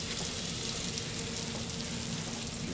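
Flour goes into melted butter in a pan over medium heat, giving a steady, dense crackling sizzle that stays even and close throughout.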